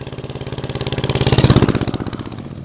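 An antique motorcycle built before 1916 idles close by, its engine thumping out a steady, rapid, even beat that swells slightly louder mid-way and then settles, with no voices over it.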